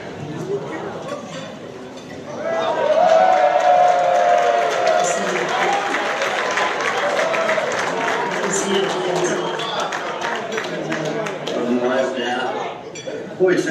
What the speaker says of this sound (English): it sounds like you got a ruckus crowd there